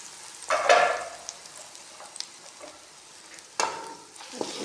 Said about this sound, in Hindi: इसको भूनेंगे मसाले को।